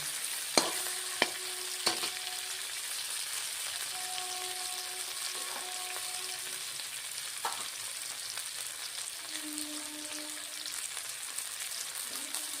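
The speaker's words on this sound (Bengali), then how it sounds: "হাফ চামচ গোটা জিরের ফোড়ন দিলাম" Whole cumin seeds, a dried red chili and a bay leaf crackle in hot oil for a Bengali fish-head bottle gourd curry, with a steady close sizzle broken by a few sharp pops and faint clinks.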